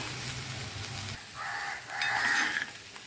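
Chicken pulao ingredients sautéing in a pan at home, a soft steady sizzle with a stirring scrape near the start and brighter bursts of frying hiss later, moderately quiet and without talk.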